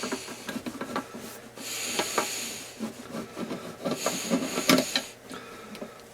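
Screws are worked loose on a Tesmen TM-510, with close scraping, rubbing and squeaky metallic twists in irregular bursts, plus a few sharper clicks toward the end.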